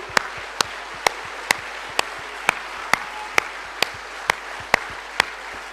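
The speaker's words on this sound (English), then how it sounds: "Can you all please stand up and give a big round of applause for that team?" Slow, evenly spaced single handclaps, about two per second, crisp and moderately close, from a lone clapper at a business seminar rather than a full audience, with no talk over them.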